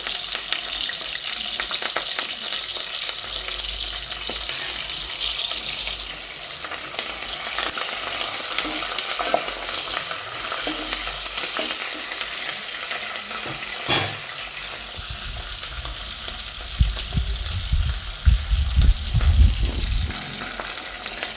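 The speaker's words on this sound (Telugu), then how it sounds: "ఒక నాలుగైదు పచ్చిమిర్చి ఇలా పొడవుగా చీల్చాలండి ఆయిల్ వేడయ్యాక ఇలా వేసేయాలి ఇందులో కరివేపాకు" Green chillies slit lengthwise and curry leaves frying in hot oil for a boiled egg fry, giving a steady loud sizzle throughout with some stirring and a denser crackle near the end, no talking.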